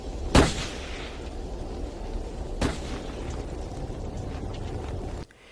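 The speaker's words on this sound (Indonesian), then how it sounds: "Baku tembak pun dimulai." Gunfire in a film gunfight scene: two sharp, loud shots about two seconds apart ring out over a dense, rumbling action-scene bed that cuts off abruptly at the end.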